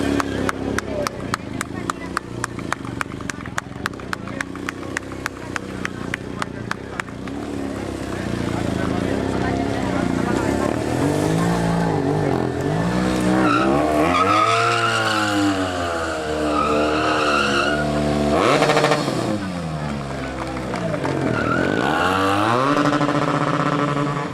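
A motorcycle at a motorbike rally in Malagón revs hard in quick bursts, then holds long rising and falling engine sweeps while sliding and skidding, loud and close, with crowd chatter and shouting underneath.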